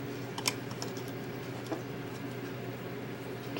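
Computer keyboard keys tapped at a desk, light scattered clicks with a couple of sharper presses standing out over a steady background hum.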